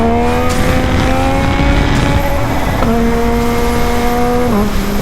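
A Yamaha MT-09 SP sport motorcycle revs up and holds high, then drops in pitch twice as it shifts down, with a rough, throaty exhaust tone and pops throughout.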